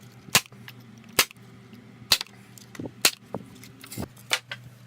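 An F30 electric nail gun fires nails into a small wooden panel, giving about eight sharp, loud snapping shots at irregular intervals, close by, with quieter handling clicks in between.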